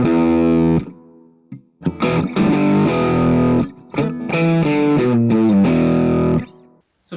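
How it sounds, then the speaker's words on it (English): Electric guitar through a Spark 40 amp on an AC30-style rhythm crunch preset with a tube screamer, strummed chords and short riffs with boxy, distorted tone, loud and close, brief pauses between phrases, no voices. "it's AC30-esque, and it is with a tube screamer, I believe."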